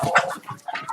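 Free-range laying hens on a farm give a quick, close burst of clucks and short squawks in two clusters over about a second.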